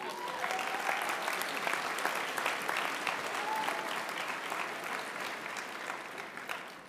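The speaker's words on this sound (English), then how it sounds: "Let's give them a round of applause." Steady applause fills a convocation hall for graduates' families, thick continuous clapping with a few faint whoops rising over it, holding level before easing slightly at the end.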